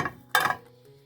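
A dry metal frying pan with no oil clanks briefly as pastries are dropped in and lifted out, a short clatter that fades quickly.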